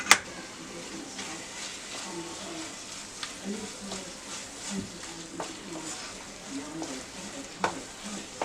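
Dessert mixture of jaggery and turmeric sautéed in a pan, a steady close sizzle with scraping stirs and occasional clinks under a speaking voice.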